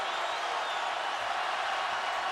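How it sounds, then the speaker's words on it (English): College basketball crowd at Kansas during an NCAA tournament first-round game against Western Kentucky roars as a broad, even wash of cheering and applause, sustained and somewhat distant. "Kansas within 1, and this crowd comes alive."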